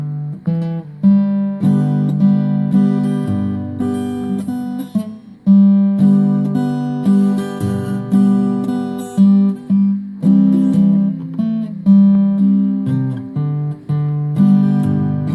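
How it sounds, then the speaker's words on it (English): Guitar played with steady rhythmic strums and picked notes in a moderate pulse, loud and close, continuing without pause. "On the guitar, that's going to sound like this."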